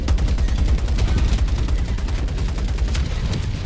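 Tank and turret guns fire in a video game as a dense, continuous barrage of rapid shots and booms. It is loud and close throughout, with no voice over it.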